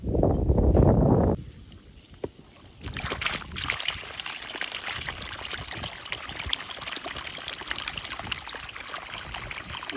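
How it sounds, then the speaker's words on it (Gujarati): Water from a hose or pipe flows and trickles onto brinjal plants in a garden bed beside okra, a steady splashing stream running throughout after a brief louder burst at the start. "આજે આપણે રીંગણીમાં પાણી પીવાનું છે, તો હાલ આપણે રીંગણીમાં પાણી પાઈ દઈએ"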